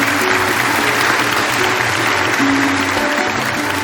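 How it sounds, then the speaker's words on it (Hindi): Steady, dense applause from a play's audience fills the whole stretch, loud and continuous with no pauses. "अगर आपको नाटक अच्छा लग रहा हो तो तालियां बजा सकते हैं आप"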